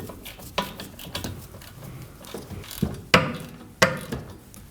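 A ratchet snugs down rear hub bolts on a 2015-2024 Ford Edge, giving irregular metallic clicks and clanks over a busy workshop background, with a few louder knocks near the end.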